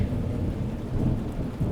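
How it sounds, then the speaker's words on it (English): Heavy rain pours onto an empty street in a steady, dense wash of noise, with a deep rumble underneath, close and alone. "Only the rain remained, pouring endlessly into the empty street."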